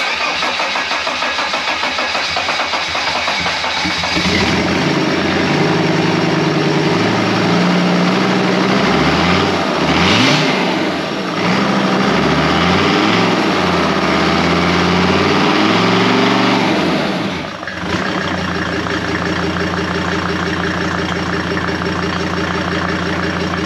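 A freshly rebuilt Mercedes OM605 turbo diesel cranks, then fires up and runs steadily at a loud, close idle. It stumbles briefly twice before settling back into its even clatter.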